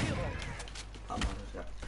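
Gunfire in a video game: a few sharp thuds and bangs sounding at irregular moments, partly masked by excited voices talking over the action.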